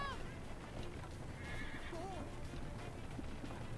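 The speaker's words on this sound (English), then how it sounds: "These horses are very cooperative." Horses in Assassin's Creed Liberation neigh briefly over a steady, dense game background with clopping hooves, moderately loud and close.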